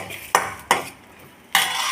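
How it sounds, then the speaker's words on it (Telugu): Onion and garlic cloves frying in hot oil, stirred with a metal spoon: three sharp scraping strokes against the pan over a steady low sizzle, close and moderately loud. "ఈ ఆనియన్ 4 తెల్లబాయలు మనం బాగా ఫ్రై చేసుకున్నాం"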